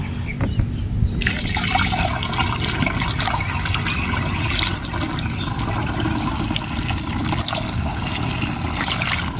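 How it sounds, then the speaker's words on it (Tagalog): Water splashes and gushes steadily as it is poured from a drum, a continuous liquid rush that stays loud and close throughout. "lagyan lang ho natin ng tubig galing dito sa ating drum"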